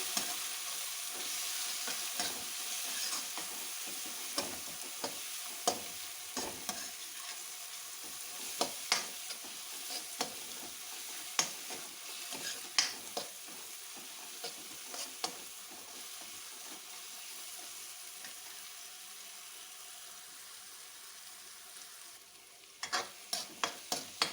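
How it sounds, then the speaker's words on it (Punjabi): Spice masala of coriander powder and red chilli cooking with tomatoes in a pan for okra curry: a continuous soft frying sizzle with frequent light spoon taps, ending in a quick run of sharper clicks. "ਜੇ ਸਾਰੇ ਮਸਾਲਿਆਂ ਨੂੰ ਟਮਾਟਰ ਦੇ ਨਾਲ ਹੀ ਪਕਾ ਲਾਂਗੇ"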